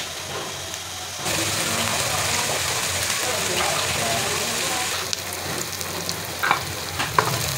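Onions frying in hot oil in a pot, a steady broadband sizzle running throughout, with occasional clinks and stirring sounds near the end.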